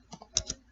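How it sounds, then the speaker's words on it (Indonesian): A few quick keystrokes on a computer keyboard while values are entered into statistics software, soft and close with no talk. "kita ketik obat X"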